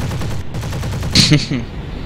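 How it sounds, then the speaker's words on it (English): Short bursts of rapid aircraft cannon fire in a War Thunder jet battle, loud and close, with a brief sharper impact near the middle over constant engine drone. "I'm gonna dive on him, try to put some rounds into him."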